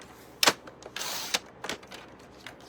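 Cardstock being trimmed to size on a paper trimmer for a card mat: a few sharp clicks and a brief swishing slide of the blade, close and quiet with pauses between.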